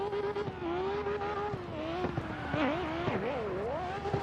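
A car engine rises and falls in pitch as it revs under turbo boost, the strong harmonic drone shifting up and down with a few sharp transients, loud and close throughout.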